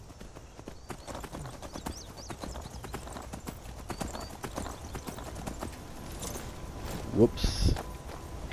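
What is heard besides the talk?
horse galloping away, from video game Skyrim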